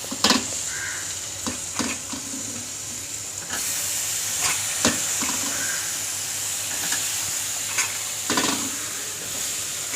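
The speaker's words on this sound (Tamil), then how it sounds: "இப்போ நீங்கள் காயை போட்டு லைட்டாக வதக்கிக்கலாம்." Vegetables stirred and sautéing in oil with tomato and onion, a continuous hiss and sizzle punctuated by sharp scraping and clanking of a spatula against the pan, close and fairly loud.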